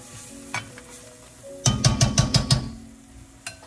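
Eggplant sautés in a pan under a soft, continuous sizzle, broken by a quick burst of about six rhythmic stirring scrapes near the middle and a few lone clinks around them.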